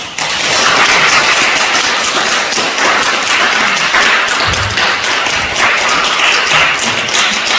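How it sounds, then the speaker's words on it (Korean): A church congregation gives a big round of applause as a pastor's wife comes forward to share her testimony, a dense, steady clapping that fills the room for several seconds with no talk over it. "나오실 때 큰 박수!"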